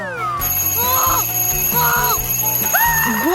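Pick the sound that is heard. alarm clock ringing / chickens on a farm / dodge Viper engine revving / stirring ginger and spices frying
alarm clock ringing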